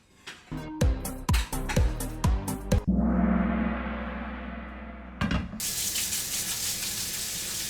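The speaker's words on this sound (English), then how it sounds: "Always wash your hands before you cook" Hands are washed under a running kitchen tap before cooking: a few sharp knocks and splashes, then a steady gush of water that runs several seconds, stops briefly, and resumes as a brighter stream.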